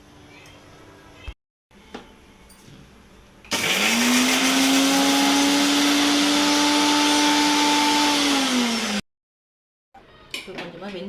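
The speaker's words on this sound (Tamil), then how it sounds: "கொஞ்சமாக கொத்தமல்லி, 2 பச்சை மிளகாய், இதை போட்டு நம்ம வந்து அரைச்சிக்கலாம்" A mixer grinder blends mint, coriander and green chillies, whirring loudly and steadily for about five seconds, with clinks of kitchen utensils and jars before and after.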